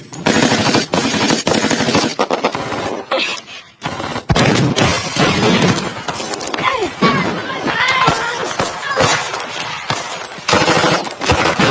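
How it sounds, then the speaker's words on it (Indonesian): Bursts of machine-gun and rifle fire in a war film battle scene, with soldiers attacking German troops manning an artillery gun, loud rapid volleys with sharp impacts and brief pauses. "Mereka mulai menembaki tentara Jerman yang mengoperasikan meriam pertama."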